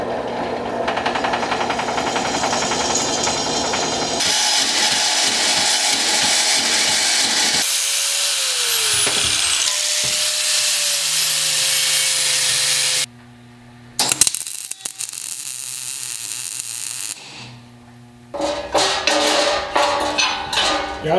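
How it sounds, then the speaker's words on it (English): A power tool in a shop cuts small metal pieces for rosette welds on a hydraulic press frame. The loud, steady cutting noise runs for several seconds in long continuous stretches and then gives way to shorter bursts of tool noise. "I'm going to cut these little things and rosette weld them in"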